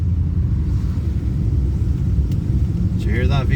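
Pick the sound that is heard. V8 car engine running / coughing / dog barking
V8 car engine running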